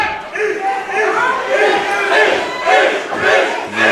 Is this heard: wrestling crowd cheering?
yes